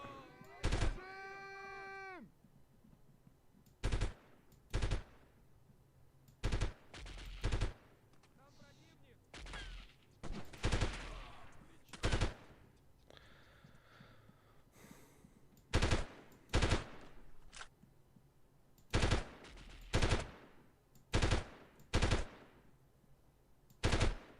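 Short, sharp bursts of gunfire in the 1998 video game Delta Force, about a dozen separate volleys spaced a second or two apart over quiet background, each crisp and loud.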